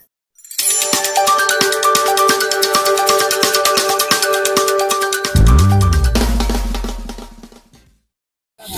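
A loud electronic mobile ringtone plays a continuous bright melody for several seconds, shifting to a lower tone near the end before stopping.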